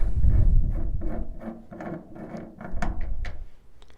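Close ratcheting clicks from unscrewing a part on a Balsa USA Stingray RC plane under construction, with rhythmic creaks and a few sharper ticks near the end.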